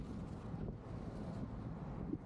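Steady, low rumbling wind buffeting a microphone, constant and fairly loud with no voices.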